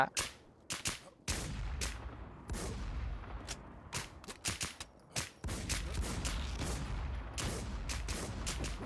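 Rapid bursts of gunfire in a shooting video game, repeated sharp volleys and machine-gun strings with short gaps, loud and close, with no talk over them.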